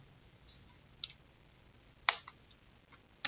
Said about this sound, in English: click our mouse button